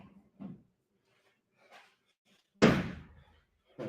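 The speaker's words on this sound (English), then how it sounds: "Doors open." Doors bang in a quiet indoor space: a couple of soft thuds early on, then one loud sharp slam near the end followed by another knock.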